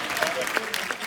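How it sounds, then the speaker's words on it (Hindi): Studio audience applause on a comedy stage show, a brief, fairly faint patter of clapping from a crowd, with a few individual claps standing out. "जोरदार तालियां हो जाए"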